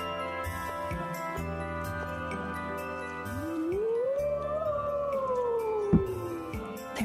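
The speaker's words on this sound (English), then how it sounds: "There's that howl again." A long, rising and falling howl in the video game Tales of Symphonia: Dawn of the New World, swelling upward, holding, then sliding down over several seconds above a soft, sustained musical backdrop with light chimes and a sharp accent near the end.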